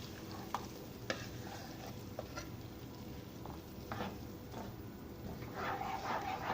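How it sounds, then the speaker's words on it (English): Cooked dal stirred into softened tomatoes in a pan, a steady scraping and sloshing with scattered utensil clicks over a faint sizzle, no voices. "so now I'll add the dal which I cooked earlier."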